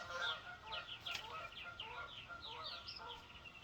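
Geese honk repeatedly in a loose, overlapping chorus, moderately distant and fairly faint over steady background noise.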